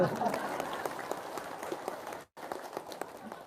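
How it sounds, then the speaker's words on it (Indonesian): A group claps in scattered, uneven applause, with a brief silent break partway through and voices mixed in. "Ya udah, tepuk tangan dah."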